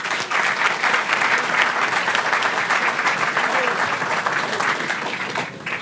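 Sustained applause from an audience at a university residence hall groundbreaking ceremony, steady dense clapping throughout, fairly close and loud.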